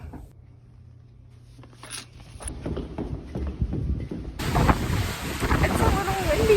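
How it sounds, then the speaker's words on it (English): Wind buffets the microphone in a rough, rushing roar that swells louder partway through, with a voice speaking faintly underneath, on a windy day in San Diego. "It's a little windy."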